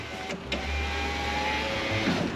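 Rear driver-side door glass on a 2004-2008 Lexus RX 330 rising under its power window motor, a steady close whirring hum running smoothly for the whole stretch without scraping.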